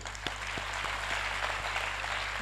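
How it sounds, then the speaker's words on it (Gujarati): A seminar audience applauds with a dense, steady clapping that holds at an even, moderate level, heard from some distance. "કેતનભાઈ માટે જોરદાર તાળીઓ પાડો"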